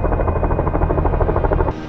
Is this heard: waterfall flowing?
no